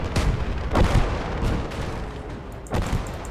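Battlefield gunfire and artillery in Gates of Hell: Ostfront, with dense, continuous combat noise and several heavy booming blasts standing out, near and loud throughout.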